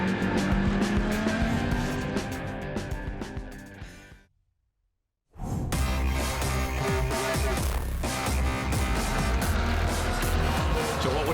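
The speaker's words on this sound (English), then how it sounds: "we've got the number 63 Mercedes at the head of this little freight train of cars" Race cars including a number 63 Mercedes and a Porsche 911 running in a close pack on the Tailem Bend circuit, loud roaring engines and tyre squeal, briefly cutting out before the noise returns at full strength.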